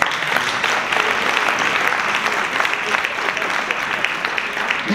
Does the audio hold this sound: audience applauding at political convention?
yes